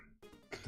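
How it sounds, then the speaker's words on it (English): One short, quiet cough, almost a throat clear, heard alone. "Got this annoying cough"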